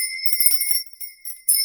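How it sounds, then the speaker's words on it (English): A small hand bell rings brightly in several short shakes, clear and close with sustained metallic overtones and brief pauses between rings. "because I'm going to be ringing this bell"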